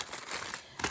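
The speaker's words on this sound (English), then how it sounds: "Sorry about the rustling." Thin paper items from a thrift store haul rustle and crinkle up close in quick, uneven bursts, with no talk.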